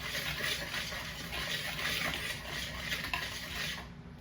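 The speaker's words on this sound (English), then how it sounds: "Whisk all this together." A whisk steadily stirring dry ingredients with salt and cinnamon in a bowl, a continuous close scraping rustle with a faint rhythmic pulse and no pauses.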